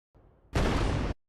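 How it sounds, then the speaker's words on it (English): Short explosion sound effect for a game under development: a faint low rumble, then one loud wideband boom lasting about half a second that cuts off abruptly. "Explosion 1"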